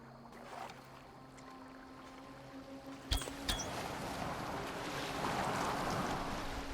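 A Viking longboat gliding over water in Assassin's Creed Valhalla, soft rushing waves and wind swelling steadily, with a couple of sharp knocks midway.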